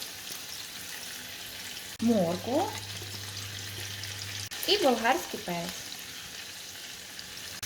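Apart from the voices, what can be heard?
sausages and vegetables frying in pan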